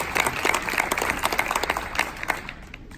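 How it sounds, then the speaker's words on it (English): A large audience at a Khbrat program ceremony at the University of Delaware breaks into dense, sustained applause that fills the room and begins to thin toward the end. "You deserve a round of applause."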